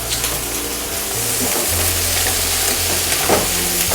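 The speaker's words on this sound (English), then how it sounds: "I'm adding the vegetables to start frying them." Vegetables frying in a home kitchen pan, a continuous loud sizzle with crackling spits and occasional stirring scrapes, close up and steady with a low hum beneath.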